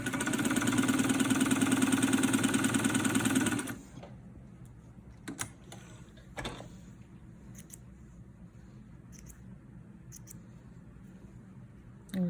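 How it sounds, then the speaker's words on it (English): A 1947 Singer 66 sewing machine stitches a row in a steady, rapid mechanical whir lasting about three and a half seconds, then stops abruptly, leaving quiet handling clicks and light taps afterward. "This was our last row of stitching."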